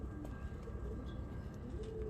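Fancy show pigeons, a breeding pair of male and female, coo softly and continuously at close range, their low murmuring calls steady over a background hum of other birds.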